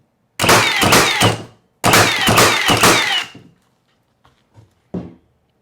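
Milwaukee M18 Fuel cordless 21-degree framing nailer (2744-20) firing in bump fire mode: two dense bursts of rapid, close, loud shots in quick succession, then a few isolated single fires after a pause.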